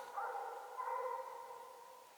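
A coonhound bays in the distance during a night coon hunt, its drawn-out, wavering howls carrying from about 200 yards off, faint but steady and with no talking over them.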